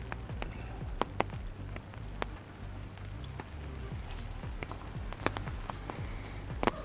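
Steady rain patters on surfaces outdoors in Kawagoe, a dense continuous hiss broken by scattered sharp drips and taps, with a low rumble underneath.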